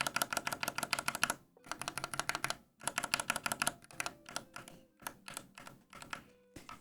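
Typing on a mechanical keyboard fitted with Box Ink linear switches, close-up and loud, in fast clattering bursts of keystrokes separated by short pauses, with no talking.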